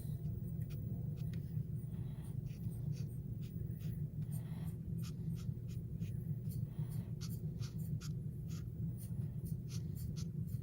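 Pencil sketching on paper, drawing the legs of a simple animal: repeated short scratchy strokes and squiggles, close and fairly steady, over a constant low background rumble.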